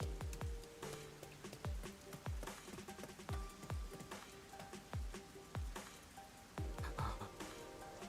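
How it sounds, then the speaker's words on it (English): Rain falling onto water in the video game Rain Code, a steady soft patter with scattered sharp drip-like plinks and low thuds recurring throughout, alongside faint tonal game music, no voices. "Look how the rain hits the water."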